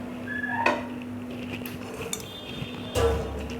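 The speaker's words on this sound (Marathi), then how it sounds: "कढई ठेवायची गरम व्हायला" A kadhai set down on a gas stove to heat for chicken chutney gives a couple of sharp metallic clanks and clinks against a quiet kitchen background, with no talking.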